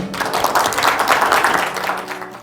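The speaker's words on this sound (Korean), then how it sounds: "여러분들 큰 박수로 모시도록 하겠습니다." An audience at a talk concert in Gwangju claps loudly to welcome a guest speaker, a thick continuous burst of many hands that swells and then begins to thin toward the end.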